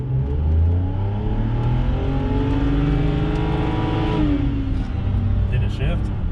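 BMW in sport mode accelerating hard from a standstill toward 60 mph, engine note climbing steadily in pitch, dropping once at a gear change and rising again, loud and close from inside the car, with a voice briefly over it.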